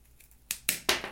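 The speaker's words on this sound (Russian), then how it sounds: "Если ветка тонкая, достаточно одного щелчка" A YATO YT-8807 ratchet pruning shear cuts a thin branch, giving two or three short, sharp clicks in quick succession, close and distinct against near silence.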